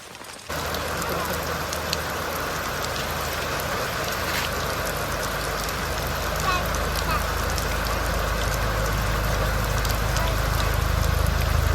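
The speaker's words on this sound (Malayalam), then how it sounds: "ഫ്രണ്ട്സ് അങ്ങനെ വീണ്ടും മഴ കൂടുന്നുള്ളത് കുറയുന്നില്ല" Heavy rain pouring steadily in a rural Kuttanad village, a dense, continuous hiss and patter that holds loud and unbroken throughout and swells slightly toward the end.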